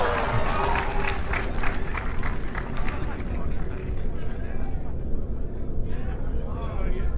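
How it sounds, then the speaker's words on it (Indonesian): An audience at a gathering applauds, with dense clapping and crowd murmur that thin out toward the end. "Tepuk tangan semua teman sekalian."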